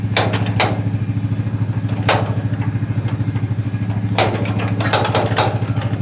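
A John Deere tractor engine runs steadily close by after a choke adjustment, with a rhythmic, pulsing low chug and a few sharp clanks and clatters breaking through.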